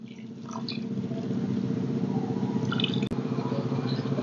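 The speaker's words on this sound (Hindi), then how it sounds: "तो अब हम इसमें दूध डाल देंगे।" Milk pours steadily into a ground pistachio mixture in a village kitchen, a continuous close liquid stream with a gurgling, bubbling texture and a brief interruption near the end.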